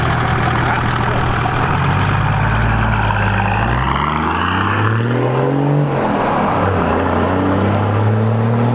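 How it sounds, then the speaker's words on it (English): A 1HDT Landcruiser diesel with a 3 inch straight pipe exhaust drones loud and close, its deep turbocharged note rising and falling through several revs as it drives along. "That is just a mean sounding exhaust."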